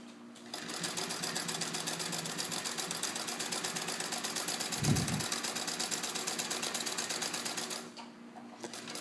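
A vintage Singer 66 sewing machine stitches through heavy fabric with a fast, steady mechanical whir and rapid needle clatter, running continuously before stopping briefly near the end and starting up again.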